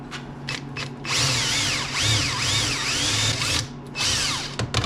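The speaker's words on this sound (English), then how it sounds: "And I'm going to put a hole right next to this one with the smaller bit." A small power drill whines in several bursts, its pitch rising and falling as the bit bites into material, with brief pauses between runs.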